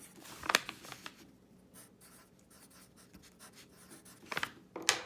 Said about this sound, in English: you can just write in a pen or a marker underneath the correct writing for your child